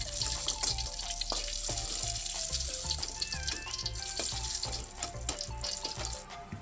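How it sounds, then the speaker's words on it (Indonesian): Chili, shallots and garlic fry in a pan with a steady, crackling sizzle, heard alongside background music. "Ini saya goreng dulu agar nanti saya menguleknya itu mudah ya teman-teman"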